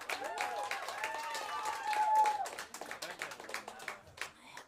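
Scattered audience clapping in a live show, moderately loud and fairly brief, with harmonic tonal sound and voices mixed in over it.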